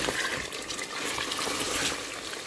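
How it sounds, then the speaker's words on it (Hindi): Water pours steadily into a pot of fried mutton trotters for paya soup, a continuous splashing gush heard close and alone. "अब हम इसमें पानी ऐड करेंगे"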